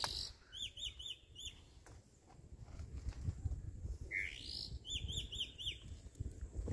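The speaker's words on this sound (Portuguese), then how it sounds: "Pássaro cantando ali." Small birds sing in short bursts of bright, rapid chirps beneath a sugar mill, heard at moderate distance over low rumbling background noise, with a quieter gap before the song resumes.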